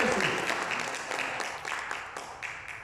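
A congregation at a Spanish-language church service gives a fairly faint, slightly distant round of applause that tapers off over a few seconds.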